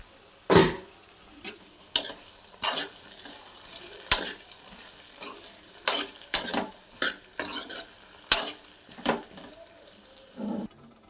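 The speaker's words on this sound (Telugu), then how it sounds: "మొత్తం కలబెట్టేసుకున్నాం." A spoon stirs okra curry with tomatoes, salt and turmeric in a pan, making a steady series of scraping, clinking strokes against the metal, loud and close, with no talking.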